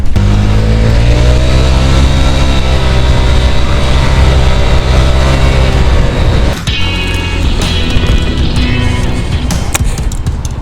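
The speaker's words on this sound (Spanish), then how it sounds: "Un poco más de ruido se nota en el motor," A Honda scooter climbs uphill with its engine and transmission droning loud and steady, pitch sliding gradually, then shifting to a rougher, windier running sound partway through, with no voices.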